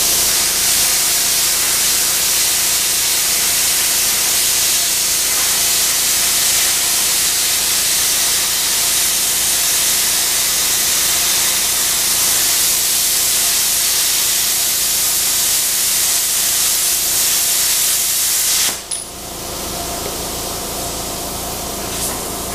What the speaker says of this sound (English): my air compressor's kicked on right now